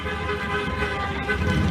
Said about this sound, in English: People are honking for the Trump wagon driving by